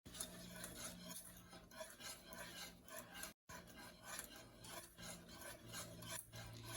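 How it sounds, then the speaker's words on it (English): Steady scraping and rubbing of a spoon or utensil stirring melting chocolate in a pot for fudge gelato, continuous and close, with no talking. "So you continue stirring, continue stirring continuously while the chocolate melts."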